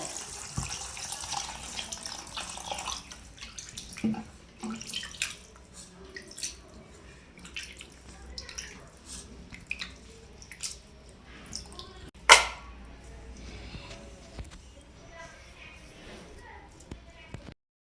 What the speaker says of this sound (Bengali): এবার জাস্ট শুধু জল দিয়ে ধুয়ে নেবো